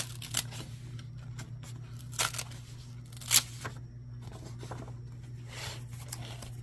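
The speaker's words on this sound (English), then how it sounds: "let me be quiet so you can hear the ripping." Tape ripped off paper beside a drawing of the Hanged Man tarot card, several sharp tearing bursts with a louder rip near the middle, close and fairly quiet over a steady low hum.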